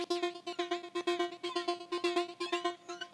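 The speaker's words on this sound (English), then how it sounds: "They're also being sent to a return track which has got a delay going into an EQ, some sidechain, and a flanger." A return-track effects chain of delay into EQ, sidechain and flanger processes a bright, rhythmic electronic sound with steady pulsing repeats and sweeping, shimmering tones, playing alone with no talk.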